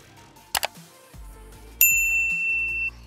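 Notification bell ding for a subscribe button, a bright ringing chime struck once and left to sustain clearly for about a second after a couple of short clicks.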